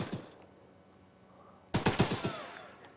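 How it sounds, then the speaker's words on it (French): Weapon fire in the Choo Choo Charles video game on PS5: a quick cluster of four or five loud shots after a quiet stretch, with no talking. "Donc là, on va pouvoir tester notre arme."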